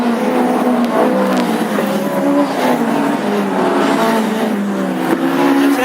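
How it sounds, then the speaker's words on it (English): Classic hot rod race cars, including a Ford Anglia, battle on the oval track at Hednesford, engines roaring loud and continuous with revving and passing throughout, no voices. "Here's the battle for 2nd place between Graham McCabe and Jamie Johnson."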